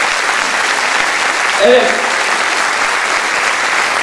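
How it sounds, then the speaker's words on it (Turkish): An audience applauds a group welcomed at a staged Turkish event: dense, steady clapping fills the whole stretch, with a brief spoken word rising over it partway through. "Büyük alkış alıyoruz bu arkadaşlarımıza"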